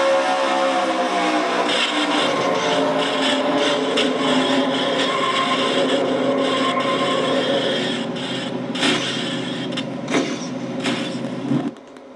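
A strained race car engine in a video game cranks and revs unevenly while struggling to start, sputtering loudly before catching briefly and cutting out near the end.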